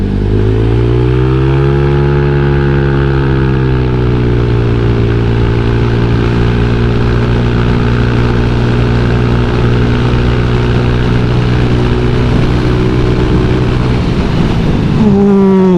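A tuned motorcycle engine with a dyno-set ECU pulls hard while riding, its steady loud drone climbing and holding through the gears, close and continuous, with a shift in pitch near the end.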